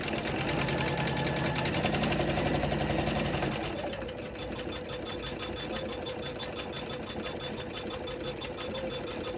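An embroidery machine stitches small quilted details into squares on a lined zipper pouch, a steady fast mechanical whir with a busier stretch before settling into a lighter, even hum, close and without talk.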